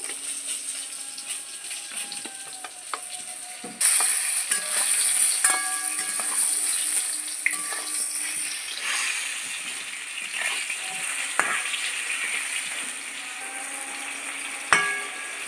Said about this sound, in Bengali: পুরো লাল করে ভাজা হয়ে গেছে, আমি তুলে নিচ্ছি।